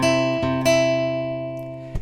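Guitar phrase from a song, fretted on the 5th and 2nd strings, rings out alone: three picked strums in quick succession, then a long sustained decay and one more soft pick near the end.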